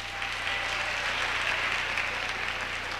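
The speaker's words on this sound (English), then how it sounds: "Give them a round of applause, ladies and gentlemen" Audience applause for a visiting police band at an awards production, a soft, even wash of clapping heard from a distance, steady throughout the few seconds.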